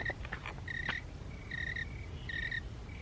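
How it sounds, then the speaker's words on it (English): Small creatures chirping in the woods, repeated short high trills in several bursts, faint and distant against a quiet outdoor background. "Did you hear that? The little crickets."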